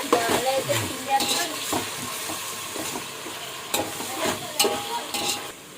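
Spices frying in a pan while being stirred for a coconut pulao, with bursts of sizzle and scraping stir strokes throughout, close and moderately loud, with faint voices in the background.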